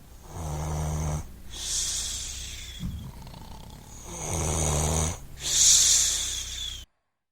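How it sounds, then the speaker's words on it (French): Several people snoring in a room, heavy rasping inhalations alternating with softer exhales in a slow, uneven rhythm, loud and close with no other sound. "Je trouvais difficilement le sommeil avec cette symphonie en dodo mineur de ronflement."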